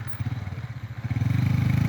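A motorcycle engine chugs and labors in rapid pulses, revving harder toward the end as it strains up a steep muddy hill, fairly close.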